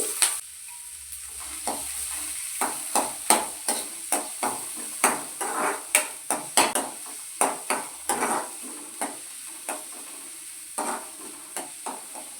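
Two small green chilies and a finely chopped onion frying in hot oil, a steady sizzle broken by regular scraping strokes of a stirring spoon against the pan, close and continuous.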